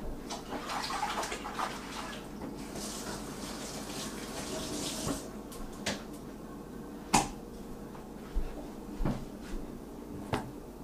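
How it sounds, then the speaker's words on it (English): Tap water running into a kitchen sink while hands are washed during chicken preparation, a steady splashing rush, followed by several sharp knocks like cupboard doors or objects being set down nearby. "Let me wash my hands one more time."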